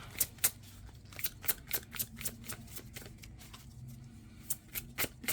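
Tarot cards are shuffled and drawn in a quiet room, with a steady series of soft, sharp riffles and snaps at close range.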